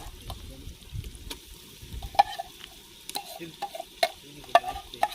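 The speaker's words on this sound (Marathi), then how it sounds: "तेल गरम झालंय. हा आला कांदा. कांदा मस्त फ्राय करून घेऊ." Chopped onion fries in hot oil in an outdoor village kitchen, a close crackling sizzle broken by repeated metallic clinks and scrapes as the spoon stirs the pan.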